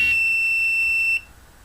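A piezo buzzer on an Arduino board sounds one steady, shrill high-pitched tone for a little over a second and then cuts off, loud and close, with no one talking.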